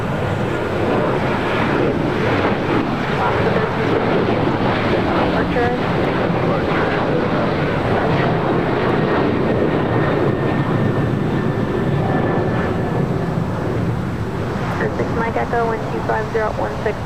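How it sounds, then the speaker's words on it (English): An Alaska Airlines Boeing 737-800 takes off from LAX on the south side, a broad steady jet roar swelling across the field, heavily buffeted by wind noise. "All right, next takeoff here on the south side. Alaska Airlines Flight 1352 heading to San Jose, Costa Rica"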